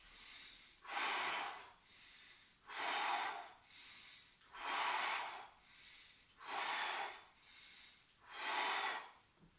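Deep, forceful breathing from a Systema core exercise that pushes out the belly and chest: about five rhythmic, close, loud breath cycles, each a long rushing exhale or inhale separated by short pauses, with no talking.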